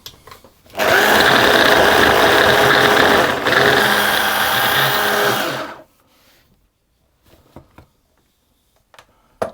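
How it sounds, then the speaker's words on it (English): A food processor blitzing butter and flour into fine breadcrumbs for ginger cream biscuits, a loud steady whirring roar for about five seconds with a brief dip midway, then stopping, followed by quiet clicks. "I'm going to pulse that and blitz it until the mixture resembles sort of a fine breadcrumb"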